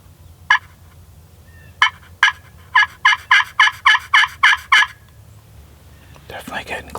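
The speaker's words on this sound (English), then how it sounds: "Gobble." A wild turkey gobbles during spring hunting season, a few sharp separate notes followed by a rapid, evenly spaced run of about ten loud calls in a quiet outdoor setting, with no talking.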